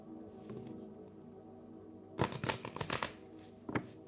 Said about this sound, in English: Let me shuffle everything here real quick.